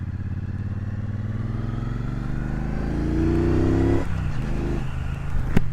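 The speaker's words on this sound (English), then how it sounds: "the way this motor sounds, God, I hope it comes over on the mic, because it sounds mean as hell" A Triumph Bonneville Bobber Black motorcycle engine idles and then revs with a deep, rising throb close by. The note climbs before it drops off sharply, and a sharp clack follows near the end.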